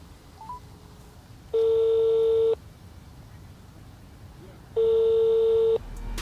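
A phone rings out to a secretary's reception line, giving two long, loud busy-tone beeps separated by a pause, each lasting about a second, with faint background noise between them.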